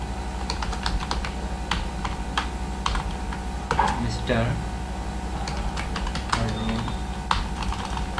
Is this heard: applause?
no